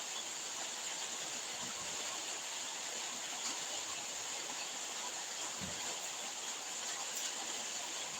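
River water flowing steadily, a constant broadband rush and hiss with no clear breaks, moderately distant and even throughout, no voices.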